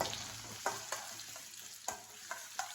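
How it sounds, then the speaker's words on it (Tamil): Onions go into hot oil with fried cinnamon and cloves for tomato rice, giving a faint, steady sizzle broken by several soft stirring clicks and scrapes, close by with no voices. "நம்ம எடுத்து வச்சுக்க வெங்காயத்தை சேர்த்துக்கலாம்."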